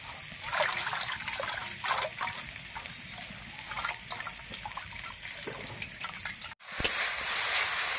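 Water pours and trickles over boiled chowmein noodles as they are rinsed, a splashing, gurgling flow that stops briefly near the end and then resumes as a steadier rush.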